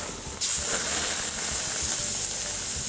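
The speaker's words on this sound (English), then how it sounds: "Now let's add the beef and let this cook for a couple minutes." Skirt steak beef sizzles in a hot pan for taco filling, a loud steady hiss with crackling throughout, sharpening slightly after the first half second and continuing alone without talk.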